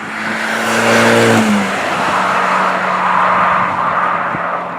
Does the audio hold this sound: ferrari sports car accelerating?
yes